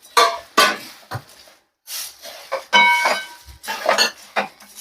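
Puffed rice being stirred quickly into hot jaggery syrup in a metal pan for chikki, with irregular scraping clatters and metallic clinks of the spoon against the pan, close and brisk, separated by short pauses.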